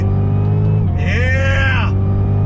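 Cadillac CTS-V Championship Edition engine pulling hard out of a turn on track, a steady low drone rising into a rapid sweeping whine as revs build and then fall back, close and loud.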